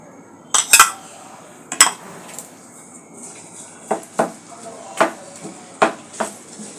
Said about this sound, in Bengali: এখানে 4টা রসুন কুচি করে নিচ্ছি।